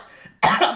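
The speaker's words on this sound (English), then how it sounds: "I'm trying not to talk too much because it's making me cough" One loud, close cough bursts out abruptly after a quiet moment, followed by a short raspy tail.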